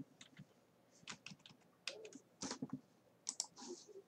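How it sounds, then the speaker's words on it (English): Quick, irregular clicks of fingers typing on a computer keyboard come in short bursts with brief pauses, close and fairly quiet, with no talking. "we have to type"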